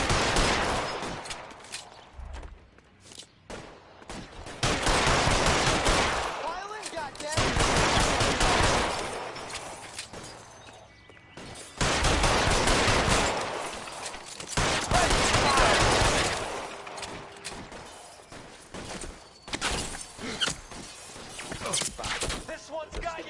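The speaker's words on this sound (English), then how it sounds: "Throw out the guns. Lay down some covering fire." Gunfire in L.A. Noire, with repeated loud bursts of automatic shots in long volleys separated by short lulls, and voices calling out between the shots.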